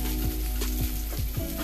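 Onions sautéing in coconut oil in a pan, a steady close sizzle with a few soft stirring scrapes over it.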